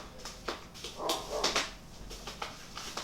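A dog in the background barks softly and whimpers in a run of short yips and whines, faint and somewhat distant in a quiet room.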